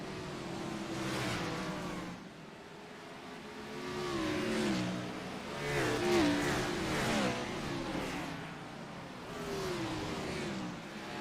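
Race cars on the Bristol dirt track in a racing video game, several engines whining and revving, rising and falling as the cars circle and pass, with no talking over them.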